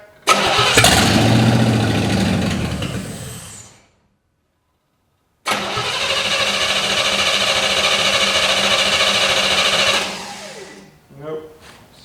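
Forgotten 1955 Chevy engine cranking with no fuel, a loud whirring starter run of several seconds, a pause, then a second longer cranking burst that stops without the engine catching.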